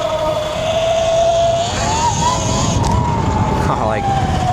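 Motorcycle engine, a KW SR with a 48-tooth rear sprocket, revs up hard in a steady climbing whine as it powers out of a corner, loud and continuous with wind noise throughout.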